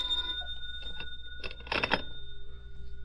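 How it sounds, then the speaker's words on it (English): An old telephone bell rings in short bursts in a vintage radio drama, the rings rising and falling against a quiet background hum. "when the phone rang."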